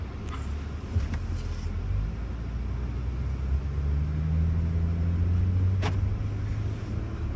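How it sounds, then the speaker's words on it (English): A 2019 Audi S5 Sportback on the move, heard from inside as a steady low engine and road rumble with a rising note midway, plus a couple of brief clicks, and no voices. "today let's go for a drive in the 2019 Audi S5 Sportback."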